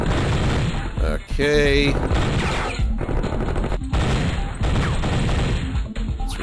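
Covering gunfire in Operation Flashpoint rattles loud and continuous as sustained automatic bursts with crashing impacts, with a brief voice and a short tonal sound early on.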